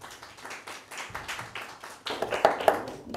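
An audience at an Easter special mushaira claps to welcome the poet Khalid Haikani to the stage: a steady burst of close, moderately loud handclaps that swells toward the end.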